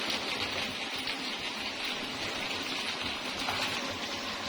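Chicken and potatoes browning in a pot after the water cooks off, a steady, dense hiss and crackle that stays even and close throughout.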